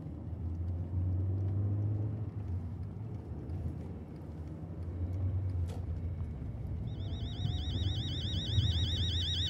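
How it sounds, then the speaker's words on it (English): A warbling electronic alarm from a house in the horror game Fears To Fathom starts partway through, pulsing steadily over a continuous low rumble, fairly loud and close. "Oh, that's just the alarm."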